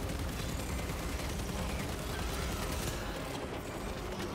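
Continuous automatic gunfire as a magazine is emptied in Space Marine 2, a dense, loud, unbroken rattle of rapid shots filling the whole stretch with no pause.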